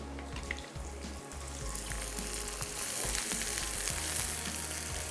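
Onions frying in hot oil with fenugreek seeds and chillies give a steady, dense sizzle. It holds continuous and fairly loud from start to finish, with faint clatter from stirring and no voices.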